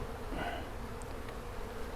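Package honeybees swarm around a Warre top bar hive during installation, giving off a steady low buzzing hum, faint and continuous, with a few louder passes of individual bees nearby.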